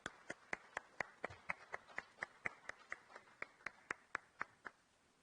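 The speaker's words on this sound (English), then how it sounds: "Can we have a huge round of applause for Mr. Subhash Chandra?" Sparse applause in a convention hall at a transformer technologies event: a run of crisp, evenly spaced claps at a steady rhythm, quiet and fairly close, with no talking.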